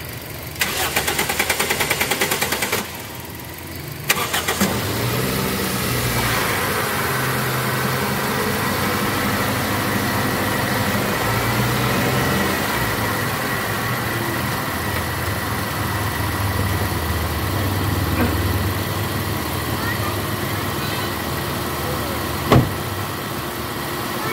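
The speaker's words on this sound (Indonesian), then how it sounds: "sekarang mobil kita udah jalan" A car engine with a weak battery cranks and catches after a jump-start, then settles into a steady, close idle hum that runs on evenly with a single sharp knock near the end.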